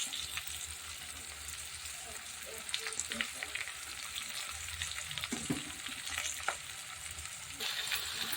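Capsicum and carrot curry sizzles and fries steadily in a pan, a continuous close hiss with occasional light clicks of stirring, no talking.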